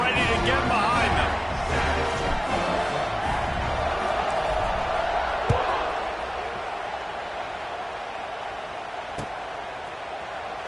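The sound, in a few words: stadium crowd in NCAA 26 football video game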